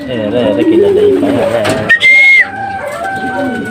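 Racing pigeons return to a home loft, with a sharp whistle-like call and bird vocalizations close by, mixed with a person's voice and brief clattering.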